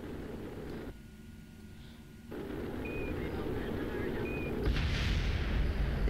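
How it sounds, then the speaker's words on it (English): Solar panels on a modded space shuttle explode in a video game, heard as heavy booming bursts with rumbling blasts that swell louder near the end over a constant engine roar. "It's the solar panels exploding."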